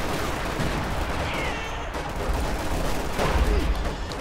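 Suppressive gunfire in the video game Company of Heroes 2, with rapid overlapping shots and bursts rattling on beneath a busy battlefield din at moderate loudness.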